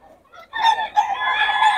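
Gamefowl roosters at a market in Bocaue crow and cluck close by. A short cluck comes first, then loud, overlapping crowing fills the rest.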